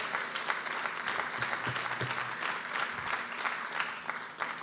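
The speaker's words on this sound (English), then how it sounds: "Clap your hands to the Lord." A church congregation claps their hands in praise, a loose, uneven run of many hands clapping at moderate distance throughout, with faint crowd murmur underneath.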